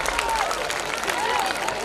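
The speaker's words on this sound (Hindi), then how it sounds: "तालियां बजाओ जोर से" Crowd applause at a school annual function, a continuous mass of clapping from a large gathering with faint cheering mixed in, steady and moderately loud.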